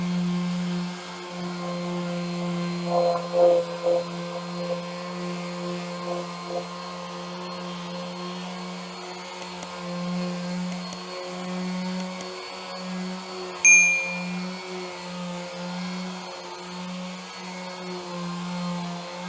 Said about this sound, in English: I'll sand the rest of it now just so you can see what it's actually like.